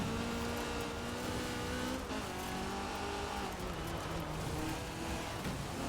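Ford GT70 car in Forza Horizon 4 driving off-road, a steady engine drone with shifting pitch across gear changes, loud and continuous with some tire noise.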